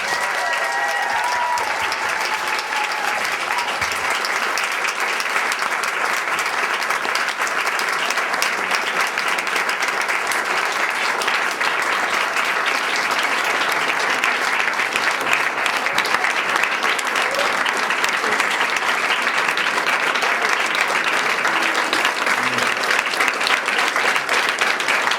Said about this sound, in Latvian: Un aicinu tiešām kvēlus aplausus šobrīd Jānim Eriņštreitam